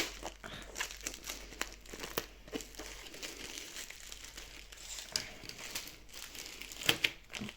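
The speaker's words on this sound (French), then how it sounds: "toujours du mal à ouvrir ces paquets" Plastic packets from a paint-by-numbers kit crinkle and tear as they are pulled open, a quiet, close rustling of irregular crackles with no talking.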